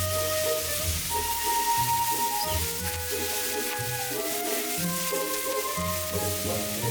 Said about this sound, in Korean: 팽이버섯과 파도 넣고 숨이 살짝 죽을 때까지 볶아주세요.